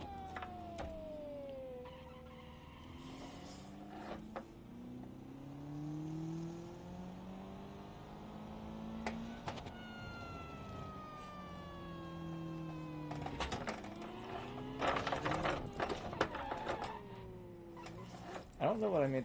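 A supercharged car engine in the game Automation revs up and down repeatedly, its whine rising and falling in pitch, with a voice talking over it.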